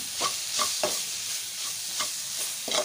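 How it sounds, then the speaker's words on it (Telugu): Amaranth leaves are fried with onion chilli paste in hot oil in a pan. A soft, steady sizzle runs underneath about six rhythmic stirring scrapes, heard close up and fairly quiet. "దీన్ని కూడా ఒక 2 మినిట్స్ వరకు ఇలా వేయించుకోవాలి"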